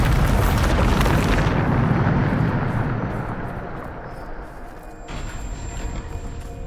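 A loud, booming blast from the Bombarda explosion spell in Hogwarts Legacy opens the clip, a dense roar that rolls on and slowly fades into a lower rumble, with a fresh swell of debris noise near the end.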